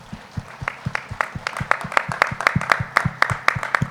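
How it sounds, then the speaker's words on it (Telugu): Audience applause at a World Meditation Day gathering, a steady run of many hands clapping at close range, building slightly in density and loudness over about four seconds, with no voices over it. "ఒకసారి గట్టిగా చప్పట్లు కొట్టుకుందాం."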